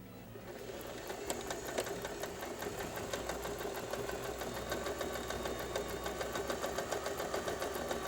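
A sewing machine runs a straight seam on a child's double-sided apron pocket, giving a steady, fast, even whirring clatter that continues without pause at a fairly soft level.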